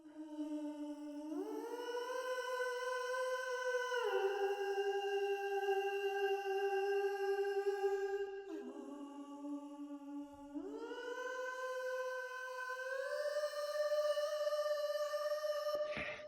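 Raw vocal sample for a drop in Ableton Live: a sustained, processed voice-like tone gliding slowly up and down in pitch, continuous and fairly quiet, alone without accompaniment.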